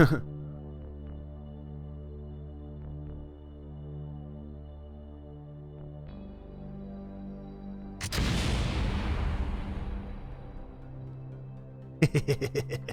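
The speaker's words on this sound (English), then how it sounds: "Explosions." Explosions in the modded space-flight game Kerbal Space Program: a loud broadband blast that fades out slowly over a steady low engine hum, followed by a quick burst of rapid crackling pops.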